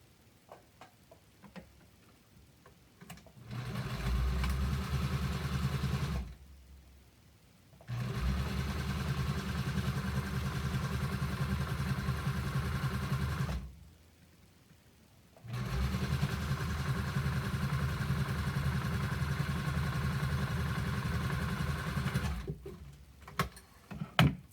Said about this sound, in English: we're going to sew the center seam from here down to here.